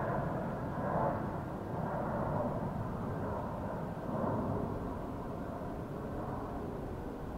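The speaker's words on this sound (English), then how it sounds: "It looks a little bigger than the standard A320, so I'm going with A321. Floating on by," An Airbus A321 airliner taxiing toward the runway at Denver International Airport gives a steady, distant engine rumble and roar, even in level across the whole span with no talk.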